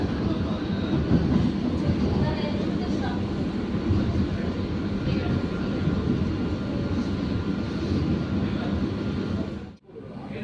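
A Chennai AC EMU suburban train runs toward Chengalpattu, giving a steady, loud rumble of wheels and carriage noise throughout with no spoken words, dipping briefly near the end.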